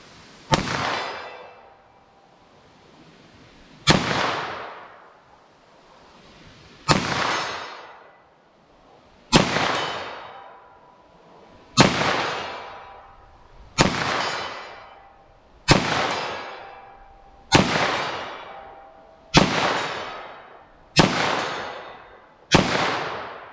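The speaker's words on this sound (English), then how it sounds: "I want to see how I can do with this 9mm+P here, see if I can hit the target" A 9mm+P handgun fires at a target 75 yards away, ten loud single shots spaced about two seconds apart, each sharp crack trailing into a long echoing decay across the open range.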